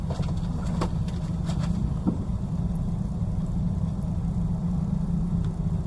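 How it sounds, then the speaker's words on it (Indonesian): Steady low rumble of idling and creeping cars in a traffic jam outside a busy church in Merauke, a continuous near engine drone with a few faint clinks and knocks on top. "Ada macet guys, baru pertama kali terjadi di Merauke guys, macet."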